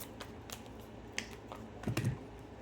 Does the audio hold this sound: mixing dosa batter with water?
no